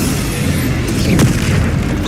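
A Bombarda spell explodes in the Hogwarts Legacy video game, a single dull boom over a dense, continuous bed of game noise.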